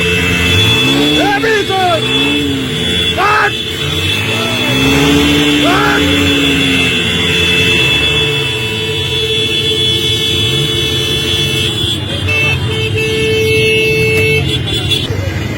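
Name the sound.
prime minister's motorcade vehicles with sirens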